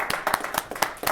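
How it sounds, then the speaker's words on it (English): An audience at a ceremony honouring officers saved by ballistic vests claps for them: brisk, fairly close hand claps in an irregular patter, a small burst of applause rather than a roaring crowd. "all of these heroes need some applause"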